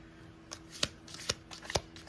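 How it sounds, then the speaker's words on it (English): Tarot cards are shuffled by hand, a quick run of papery riffling and soft slaps, close and fairly quiet, with no talking. "I'm going to get one more card for advice."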